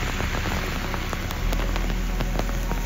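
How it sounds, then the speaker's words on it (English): Heavy rain pours steadily at Togakushi Shrine among large cedar trees, a dense continuous hiss with scattered louder drops, loud and close, with no voices. "I wanted to get closer, but the rain was so heavy that I couldn't."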